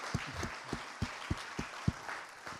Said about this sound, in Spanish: si va a aplaudir, apláudale al Señor y apláudale fuerte a Él